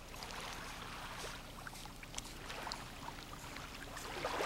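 Broadband rushing of water against a moving boat hull on Lake Superior near Grand Island off Munising, Michigan, with a steady low engine drone underneath, continuous and fairly close, no talking.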